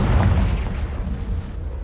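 In the video game Hogwarts Legacy, a Confringo fire spell explodes as a loud, deep, rumbling boom that fills the short moment and fades slightly toward the end.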